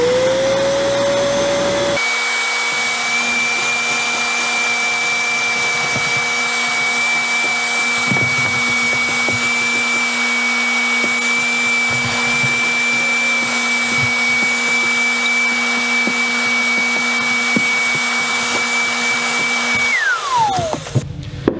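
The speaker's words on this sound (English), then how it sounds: "All right, we're gonna vacuum it out." A vacuum cleaner runs steadily on a boat's carpet, a loud, continuous whine with a low hum beneath, starting abruptly and winding down at the end, with no talking.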